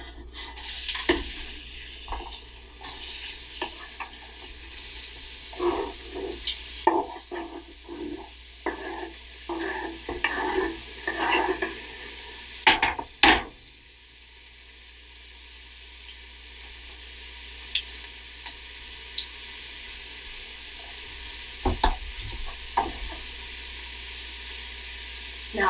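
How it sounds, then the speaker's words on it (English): Onions, garlic and ginger frying in a pan, giving a steady close sizzle with bursts of utensil scraping and stirring clatter in the first half, then sizzling alone for the rest. "So we're gonna go ahead and add that to our pan and get it cooking. Onions first."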